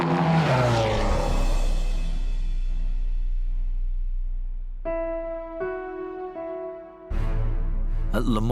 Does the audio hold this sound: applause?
no